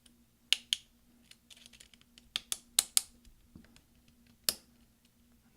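A replacement delete key is pressed onto a 2011 13-inch MacBook Pro keyboard, giving a series of sharp, close plastic clicks and snaps spaced irregularly, with soft fumbling in between.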